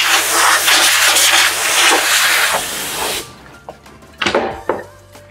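A long, steady hiss of air blows dust off the speaker module of a Gotway MSuper Pro electric unicycle. Two shorter, sharp puffs follow after a pause, all close and loud.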